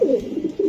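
Racing pigeons cooing inside an earthenware bowl, a low rolling coo repeated in quick pulses, close and fairly loud with no voices over it.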